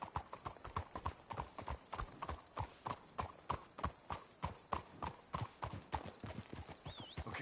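Horses' hooves clip-clop steadily in Red Dead Redemption II, a brisk, even rhythm of many close, sharp strikes throughout with an occasional faint whinny.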